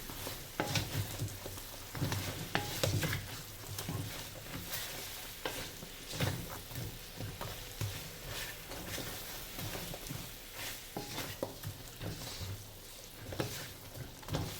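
Glutinous rice pilipit being stirred and tossed in a pan with sugar, a steady scraping and sizzling mix close by with soft clatter throughout, no talk.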